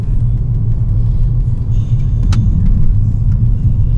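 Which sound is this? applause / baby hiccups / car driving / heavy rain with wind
car driving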